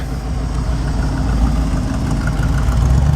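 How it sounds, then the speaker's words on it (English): The rear-mounted V8 engine of a replica Ford GT40 rumbles loud and close, a deep, steady throaty roar with no voices. "What a phenomenal sound from that rear engine, the V8."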